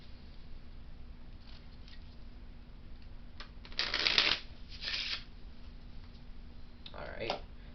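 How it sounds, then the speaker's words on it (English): Cards riffle in a couple of short bursts against quiet background, close and crisp, with a smaller flutter near the end. "just give it a quick shuffle so you can't mess with those cards"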